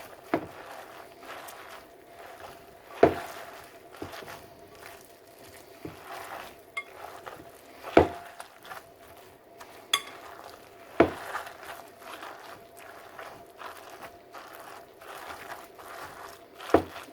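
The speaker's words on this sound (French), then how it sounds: "Et à présent, nous allons mélanger notre préparation." A spoon stirring potato pancake batter in a bowl, with soft continuous scraping broken by sharper knocks against the bowl every second or two, close and fairly quiet with no talking.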